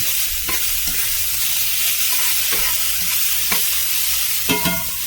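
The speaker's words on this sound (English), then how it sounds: "We're going to brown the onions." Onions browning in a hot pan for mushroom-onion gravy, a steady bright sizzle broken by several scraping stirs of a spoon against the pan, close and continuous with no voices.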